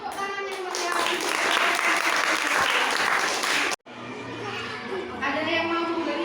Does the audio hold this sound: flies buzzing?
no